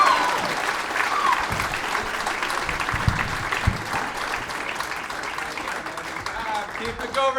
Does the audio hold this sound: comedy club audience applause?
yes